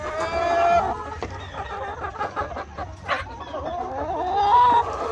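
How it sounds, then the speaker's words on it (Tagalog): Farm chickens clucking and squawking as they are fed a sweet molasses feed, several close, busy calls overlapping in an irregular stream, with a rooster-like cry and some background noise. "Ito na yung ipapakain natin sa mga manok."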